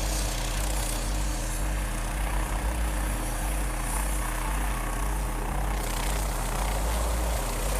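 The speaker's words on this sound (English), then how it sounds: "This autonomous helicopter drone is known affectionately as the Fire Scout." A Northrop Grumman Fire Scout autonomous helicopter drone produces a steady, loud rotor and engine drone with a continuous low throb and broad whooshing noise, unbroken throughout.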